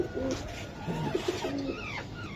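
Giribaz pigeons coo nearby in short, soft, repeated throaty calls over a steady background hiss.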